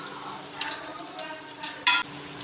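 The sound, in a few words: cardamom and cloves crackling in hot oil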